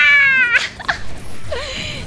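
A game cat character meows in the LINE Rangers video game, a couple of short, bright meows and a wavering cry, mixed with other high game effects over a low background.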